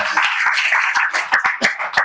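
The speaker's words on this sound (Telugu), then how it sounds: "చప్పట్లు కొట్టి ప్రభు నామానికి అంత." A church congregation claps together at a Christian sermon, a brisk run of crisp, fairly loud claps that thicken into sharper bursts toward the end, with no talking.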